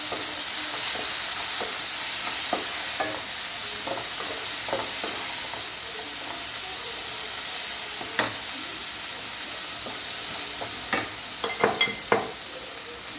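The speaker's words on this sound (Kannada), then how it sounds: "ಫ್ರೈ ಆಗಲಿ." Two tomatoes frying in a pan of hot oil, a constant loud sizzle with scattered pops and clicks of stirring, louder spatters near the end, no talk.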